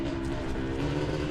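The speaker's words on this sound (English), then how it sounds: "Oh, that's a four-wheeler." A quad four-wheeler engine runs steadily nearby with a continuous droning hum and harmonic buzz, constant in level throughout, with no talk over it.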